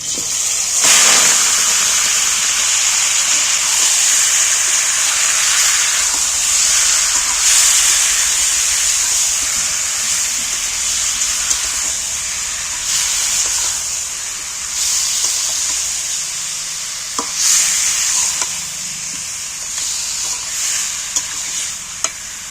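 Marinated meat frying in a little oil for a wedding-style curry, a loud, steady hissing sizzle throughout, broken by occasional stirring scrapes and clinks of a utensil in the pan, close up.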